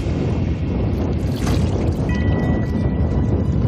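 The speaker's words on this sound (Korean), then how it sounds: "예, 오늘 바람이 많이 불어서 이 정도로 마무리해야 될 것 같습니다." A strong winter wind at sea buffets the microphone aboard a work boat at a seaweed farm, a loud continuous rushing roar with gusty low rumble and a brief higher hiss partway through, with no talking.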